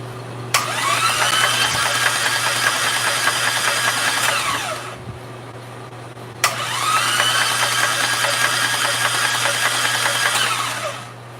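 An engine that is leaking oil spins up twice, each time running steadily for several seconds before winding down, over a faint low hum.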